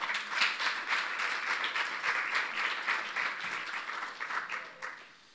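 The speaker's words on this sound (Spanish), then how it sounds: "Dale un aplauso a Dios ahí" A church congregation applauds in a fast, dense burst of hand clapping that rises, holds, and then tapers off near the end.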